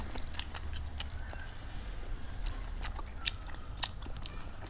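Someone chewing cheese-filled tteokbokki rice cakes up close, with soft repeated bites and wet mastication clicks in a quiet room.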